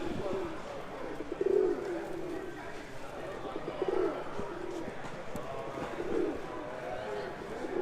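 Archangel pigeons coo low and soft in repeated murmuring phrases at the Lancaster pigeon show, under a steady hall murmur with background voices talking.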